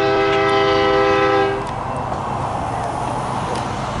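A BNSF freight train sounds a loud, close, multi-tone horn blast, then gives way to a heavy, steady rail rumble as it approaches.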